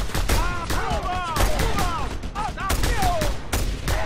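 Rapid gunfire in the video game Just Cause 2, with repeated loud shots in quick bursts going on the whole time, mixed with whistling, chirping game effects.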